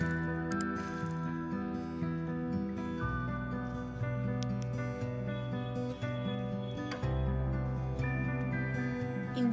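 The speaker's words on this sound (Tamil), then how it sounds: "ஊற வச்சிருக்கிற உளுந்து கிரைண்டரில் இந்த மாதிரி போட்டு அரைச்சி எடுத்துக்கணும்." A wet grinder churns soaked urad dal into a thick batter for crispy ulundu vadai, a steady mechanical hum with a low rumble and faint wet squishing, continuous and close, with no talk.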